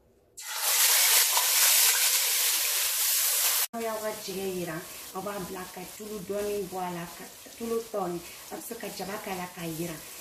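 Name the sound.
leek and chopped onions frying in oil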